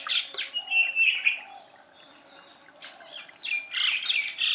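A bird in the Anantagiri forest calls for a mate: several harsh, squawking calls come close and clear in two bursts, with a quiet pause between and no talking.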